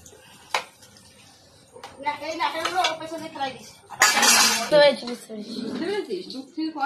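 Dishes and utensils clatter and clink while being scrubbed, with scattered metallic knocks and a sharp rattle of pots midway, mixed with people talking close by.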